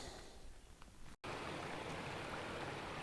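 Cottonwood Creek in the Pinaleño Mountains flows in a steady, close, even rush of water, broken by a brief cut to silence.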